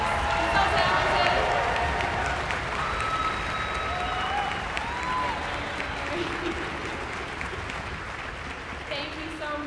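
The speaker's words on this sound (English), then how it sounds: "Let's give him a round of applause." A concert audience applauds the orchestra's concert master, a broad wash of clapping that starts full and slowly tapers, with a few voices and faint instrument tones sounding beneath it.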